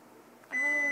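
An oven timer buzzer sounds in a home kitchen during cupcake baking, a steady, loud electronic tone that starts partway through and holds to the end over a low background.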